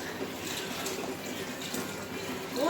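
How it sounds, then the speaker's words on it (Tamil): Water pours into a pot of sautéed tomato mixture for tomato rice, which is then pressure-cooked: a steady, close splashing pour that swells near the end, with no talking. "இப்போ வந்து நீங்கள் தண்ணி அளவு தண்ணி வந்து ஊற்றிக்கலாம்"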